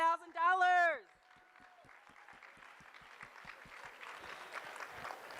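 At a charity auction gala, a voice speaks briefly, then a room of bidders breaks into applause that starts thin and scattered and builds into fuller, steady clapping, moderately distant.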